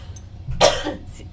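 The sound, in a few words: cough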